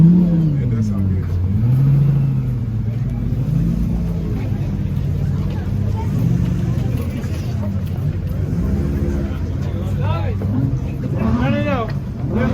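A Lexus LFA engine holds a loud, sustained drone with pitch swells and rising revs near the end, while people talk over it throughout.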